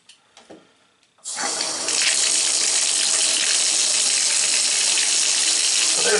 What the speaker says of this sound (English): So there's water going down the drain.